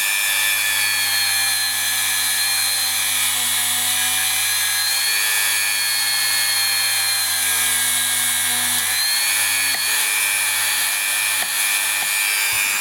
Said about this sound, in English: we'll run over it again with the Dremel and see what the result is